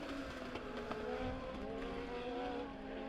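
Dirt track race cars at Springfield Raceway power off a turn during a Legend heat race, engines droning loudly and continuously at mid distance.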